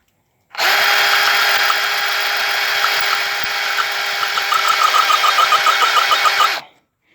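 A Porter Cable brushless drill runs continuously at a steady high whine for about six seconds, starting and stopping abruptly, close and loud with no talk.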